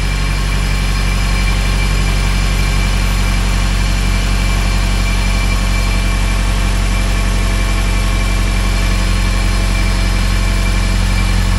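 A Honda K20A2 car engine idles steadily and loudly up close, a constant low rumble with an even mechanical hum and no change in pitch, with no voices present.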